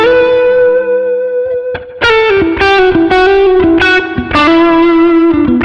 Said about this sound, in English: Now, I really like the Timmy overdrive on this one.